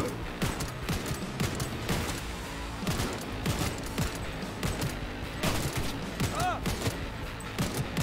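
Rapid bursts of gunfire in Cyberpunk 2077, sharp repeated shots in clustered volleys over a dense game soundscape, loud and close throughout.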